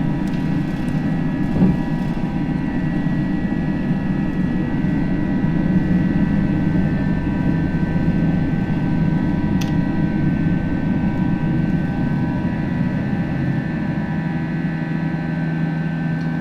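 An Airbus A320 jet in the FSLabs flight simulator game roars through takeoff as a steady, loud engine drone with a high whine, continuous and unchanging, with no voices.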